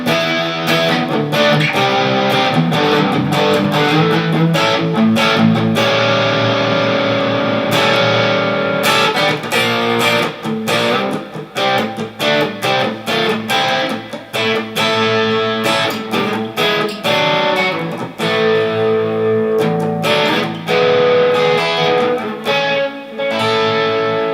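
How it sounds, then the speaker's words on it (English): A Harley Benton CST-24 Deluxe electric guitar on its neck pickup, played with heavy high-gain distortion, rings out in dense, loud riffs and sustained chords for over twenty seconds, with no talking. "Let's go switch on some gain and check out some of the heavy tones."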